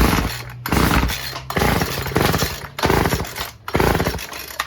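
Repeated pull-cord starts on a Stihl FS36 string trimmer with the choke off give five loud, close rasping bursts separated by short pauses, the small engine never catching.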